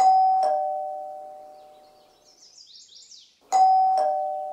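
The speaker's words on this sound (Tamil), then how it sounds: "Calling bell வீறிட்டது." A doorbell rings with a clear two-tone ding-dong chime that sounds twice, with a quiet gap between the rings.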